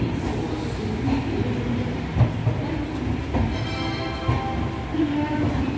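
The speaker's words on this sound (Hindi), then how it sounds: "मेरी ट्रेन चल रही है अजमेर एक्सप्रेस" Ajmer Express train in motion, a steady rumbling roll with rhythmic wheel clatter and occasional louder clacks, close and continuous throughout.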